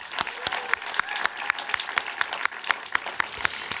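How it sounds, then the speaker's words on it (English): An audience applauds for Amanda at the PEN Emerging Voices 2019 event, a dense patter of many hands clapping steadily at moderate loudness, with a few sharper claps popping out near the microphone. "Let's give Amanda a round of applause."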